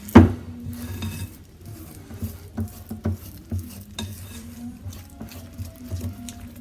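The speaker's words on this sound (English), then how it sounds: "So just mixing that around, getting it all mixed together" A spoon scrapes and taps around a bowl while butter tart filling is mixed, giving irregular soft clinks and stirring noises with a sharp knock at the start.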